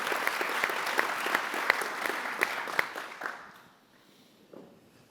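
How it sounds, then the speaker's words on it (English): Conference audience applauding steadily after a panel remark, a dense wash of many hands with a few sharper claps standing out, then fading away to near silence by the end. "I think a round of applause for that."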